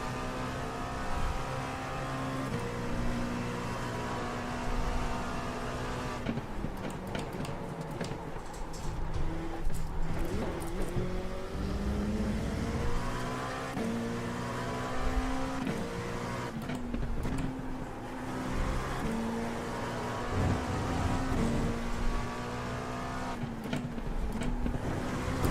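A race car in the iRacing sim at Monza during an IMSA race, its engine droning continuously with rising pitch sweeps as it accelerates through gear changes.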